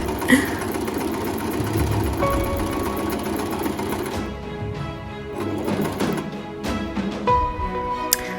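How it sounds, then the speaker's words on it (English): A sewing machine runs a zigzag stitch around cut pieces of shower curtain fabric, whirring steadily and close for about four seconds, then stopping and starting in shorter bursts with clicks and handling noises. "So I decided to run a zigzag stitch all around the cut pieces"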